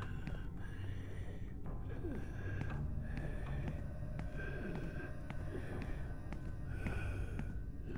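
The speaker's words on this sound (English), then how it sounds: "I don't like the breathing I'm hearing." Creepy heavy breathing in the horror video game Yuppie Psycho, raspy snorting inhales and exhales repeating in an uneven rhythm over a low murky background, close and moderately loud.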